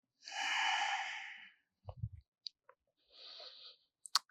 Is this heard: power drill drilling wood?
no